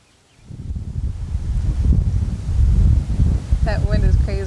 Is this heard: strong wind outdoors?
yes